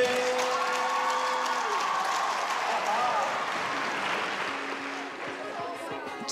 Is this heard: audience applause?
yes